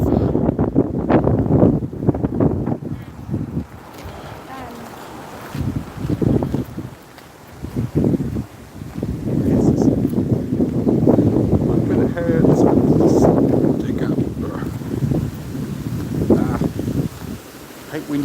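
Gusting outdoor wind buffets a microphone in loud, rumbling bursts that come and go, with a person talking underneath through much of it.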